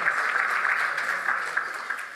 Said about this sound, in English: that's where the clap comes